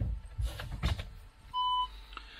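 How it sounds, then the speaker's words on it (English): Parking sensor of a Volkswagen Transporter T6.1 in reverse gives a short, clear electronic beep after some handling noises, quiet and close inside the van. "we'll just turn the sensor noises off very quickly, just so it doesn't beep a lot."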